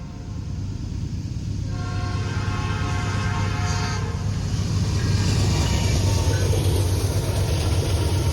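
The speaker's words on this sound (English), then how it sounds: "came a southbound intermodal, wasting no time at all getting through Greenville" Southbound intermodal freight train rolling quickly through Greenville, a loud sustained roar of wheels and locomotive engine with a deep rumble and a rising tonal whine partway through, continuous for the whole stretch.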